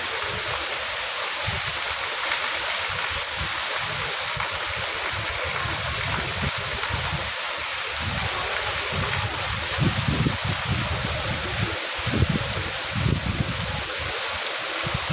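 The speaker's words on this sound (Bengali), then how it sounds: "দেখুন খুব বৃষ্টি, তাও বৃষ্টির মধ্যে আমি একটা ভাবলাম ছোট্ট ভিডিও করা যাক। প্রচণ্ড বৃষ্টি গঙ্গার পাশে।" Heavy rain beside the Ganges river, a dense continuous hiss and patter with rushing water beneath, steady and enveloping for the whole stretch.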